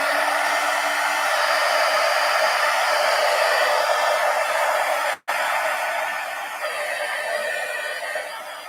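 A hair dryer blows steadily and close on a junk journal page, a continuous airy roar that cuts out for an instant midway and then carries on, slightly varying near the end, with no voices.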